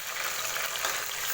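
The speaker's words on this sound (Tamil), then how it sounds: "வெங்காயத்தை நல்லா பொன்னிறமா வதக்கி விடுங்க" Sliced large onions sizzle steadily in a pan, frying toward golden brown for chicken biryani cooked in a pressure cooker; a close, continuous hiss fills the brief moment with no voices.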